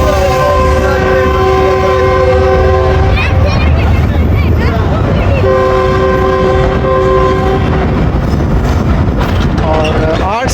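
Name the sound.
Sandal Express train approaching Jhang Sadar railway station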